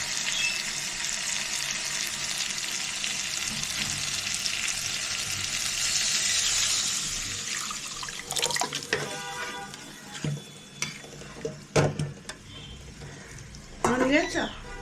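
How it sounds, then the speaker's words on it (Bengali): Dal poured into a hot pan gives a loud, continuous sizzle for several seconds. It then quiets, followed by clinks, running tap water and voices talking. "এবার ডাল দিয়ে দিচ্ছি।"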